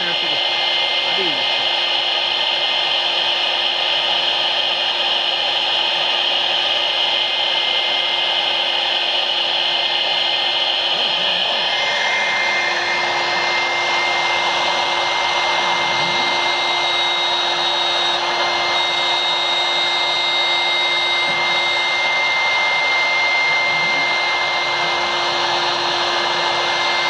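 A BMG-2040 CNC router cuts ACP aluminium composite panel, a steady loud whine with a high-pitched tone that shifts slightly midway and runs continuously throughout, with faint voices in the background.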